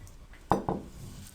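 A metal spoon scrapes freshly ground spicy green herb chutney out of a mixer grinder jar, giving two short, close clinks against the jar over a quiet kitchen background.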